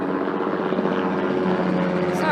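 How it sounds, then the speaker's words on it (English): A helicopter passes overhead, its steady whirring rotor drone loud and continuous throughout, with no pauses or change in distance. "there is a helicopter going over me"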